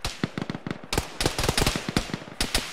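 Rapid, irregular bursts of loud gunfire from an Arma 3 ShackTac military video game session, sharp cracks clustered close together and then spaced out, with no talk over them.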